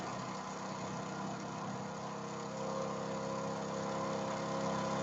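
Hero Splendor motorcycle engine idling at a raised idle speed, a steady close-up mechanical hum that rises slightly in level partway through, with no talking.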